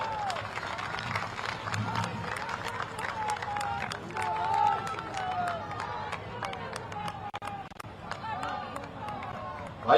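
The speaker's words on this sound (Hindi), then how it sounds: "एक बार सब लोग आप बहनों के लिए ताली बजा दीजिए।" A crowd at a political rally claps for the sisters in attendance, a dense patter of many hands running steadily for several seconds at moderate volume, with some background voices mixed in.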